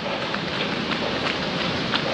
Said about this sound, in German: Das Wetter meint es nicht gut mit uns, ständiger Dauerregen angesagt